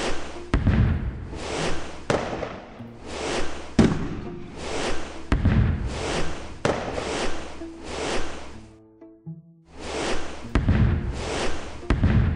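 Repeated booming video game fireworks bursts with crackling tails, loud and close, coming in rapid succession with a brief lull before more launches.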